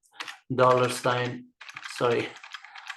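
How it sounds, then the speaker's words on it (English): Rapid clicking of computer keyboard keys while entering a Linux shell script for loop, running under close, continuous talking. "I'm just typing in, it goes too fast."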